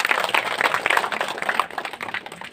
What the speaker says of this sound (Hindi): तो आप सभी मातृशक्ति अपने के लिए एक बार जोरदार तालियां बजाएंगे।